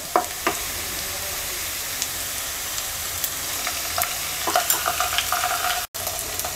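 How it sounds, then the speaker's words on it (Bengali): A teaspoon of ginger-garlic paste fries with browned onions in a pan of hot oil, giving a steady close sizzle broken by scattered clicks and scrapes of stirring. "পেঁয়াজটা ভাজা হয়ে গেছে দিয়ে দিচ্ছি এক চা চামচ আদা রসুন বাটা"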